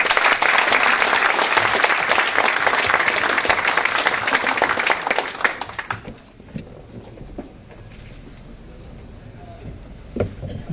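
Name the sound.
audience applause for engineering dean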